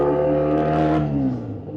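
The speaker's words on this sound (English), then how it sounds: "an unfortunate thing about the Boxer engine, it's cool to a to a certain point" BMW R nineT street motorcycle with a boxer engine revving in one loud, close, steady throttle blip that rises briefly and then settles back toward idle.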